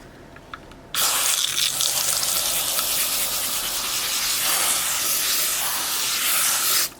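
Water rushes steadily from a hose hooked to a household faucet, a broad loud hiss that starts abruptly after a quiet second and runs nearly seven seconds before cutting off.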